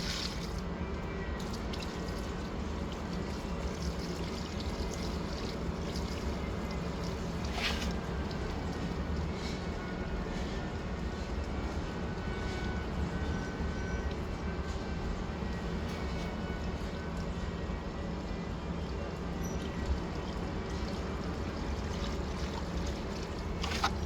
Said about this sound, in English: me pouring water over it to test it